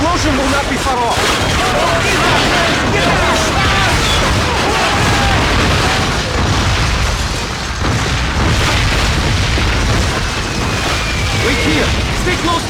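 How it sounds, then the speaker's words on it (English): Artillery shells burst in dense, continuous booming barrages across a loud Call of Duty: Finest Hour battlefield, explosions overlapping without pause for the whole stretch. "If you hear the incoming whistle of the artillery, the explosion will not be far off."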